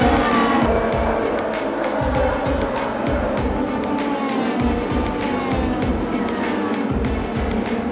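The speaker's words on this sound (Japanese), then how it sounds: "2024オートバックスーパー GT ラウンド8モテキ GT 300キロレーススタート" Super GT race cars roaring off the start at Motegi, a dense, loud wall of engine noise with overlapping revving and passing cars throughout, no talk.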